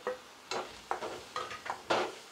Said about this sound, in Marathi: आता हे तेलामध्ये पूर्ण परतून घेऊया